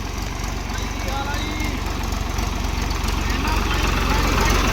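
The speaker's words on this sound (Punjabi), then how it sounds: "ਉਹ ਦੇਖੋ ਟਰੈਕਟਰ ਏ" A tractor's engine runs steadily in floodwater deep enough to submerge its front grille, on a flooded road near the village of Thakkarwal, a low continuous throbbing drone heard nearby without pause.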